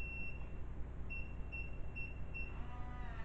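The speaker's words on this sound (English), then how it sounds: "Forgive the beeps. That's my door being unlocked." A home electronic door lock gives a quick run of about five short, high electronic beeps while being unlocked, fairly clear over a quiet room hum.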